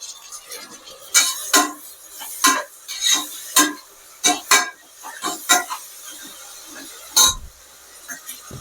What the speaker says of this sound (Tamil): அடுத்தது நம்ம தக்காளி போட்டுக்கலாம்